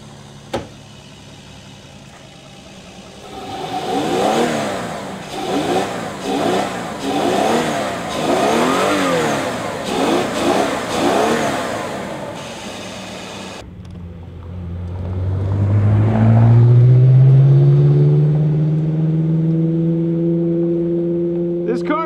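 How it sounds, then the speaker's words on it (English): A BMW Hydrogen 7 with a hydrogen-burning V12 is revved with the hood open, the engine rising and falling in repeated blips, then a long climbing rev that settles; loud and close with no talk. "Into a massive V12 engine."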